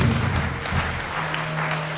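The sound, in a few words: audience applause at a book launch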